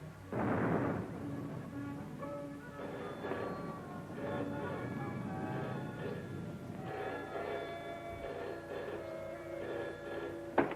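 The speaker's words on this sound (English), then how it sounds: "Listen, guns again." Anti-aircraft guns fire in the distance, a low rumbling boom followed by a sustained dull roar and hum that swells and fades over several seconds, with no voices over it.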